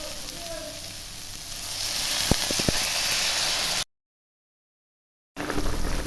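Gravy poured into a pan of Bengali cabbage kalia with potatoes sends up a loud, steady hissing sizzle with a few sharp clicks, then cuts out abruptly and returns.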